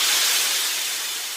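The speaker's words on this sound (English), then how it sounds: "They'd sent great jets of steam hissing into the air." Steam hissing from a train, a loud, continuous bright hiss that holds steady and tapers slightly, close up with no voices.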